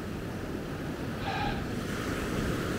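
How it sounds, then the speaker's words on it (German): Ocean surf along the Gran Canaria coast washes in as a steady, fairly distant roar under cloudy skies, continuous and unbroken with no voices, mixed with light wind on the microphone. "Hier sind weniger Wellen, ganz klar."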